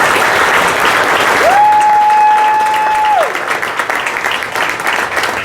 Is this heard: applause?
yes